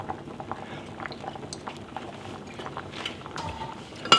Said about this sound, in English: So now I'm just going to let this simmer for a bit and thicken until we've got our gravy